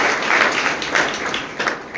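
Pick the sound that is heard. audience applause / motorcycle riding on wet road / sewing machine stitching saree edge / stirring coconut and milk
audience applause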